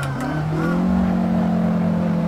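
A 1957 Porsche 718 RS 60 Spyder's engine revs up in a racing game, a loud, close, steady rising drone with a pitch that climbs and then holds high.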